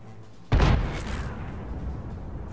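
A tank cannon fires in World of Tanks, one loud, close boom with a sharp onset that rolls off into a rumbling tail over a steady background hum.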